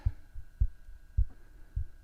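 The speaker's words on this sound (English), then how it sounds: "Sounds like such a heartbeat right now." A porch-board kick drum thumps slowly and steadily in four deep, soft, heartbeat-like pulses about half a second apart, over a faint hum.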